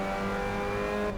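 A race car engine revs hard and steady at Vallelunga in Assetto Corsa, with a faint edge of tire strain under the loud, continuous drone.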